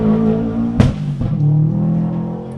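A Subaru Impreza rally car idles loudly and close at the start line of a forest rally sprint, its engine rumbling steadily with a sharp burst of revving partway through.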